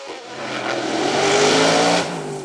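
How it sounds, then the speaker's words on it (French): A Zella PA30 sports race car at a hill climb in Turckheim roars past close and loud, its engine note rising under hard acceleration before easing off near the end. "on retrouve le Zella PA30 de Cyril Franz"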